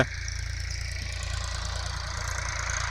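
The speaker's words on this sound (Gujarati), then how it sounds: "અને એમાં આપણે ચંદુભાઈ ટ્રેક્ટર અત્યારે રાખી રહ્યા છે." A steady, throbbing tractor engine idles nearby with a low rhythmic chug that holds constant throughout.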